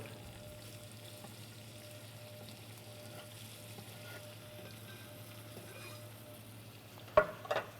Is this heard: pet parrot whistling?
no